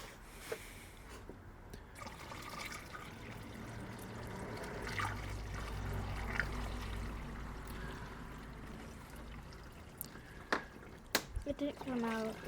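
Warm water is poured into a bucket while cleaning up a 1977 Polaris TX 340 snowmobile, a soft, quiet stream swelling and then fading, with a person talking around it and a few sharp clicks near the end.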